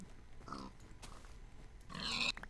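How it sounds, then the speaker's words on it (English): A pig in the video game Minecraft grunts twice, short nasal oinks a moment apart, the second louder and longer, heard alone against quiet background. "I do want to teach this pig a lesson,"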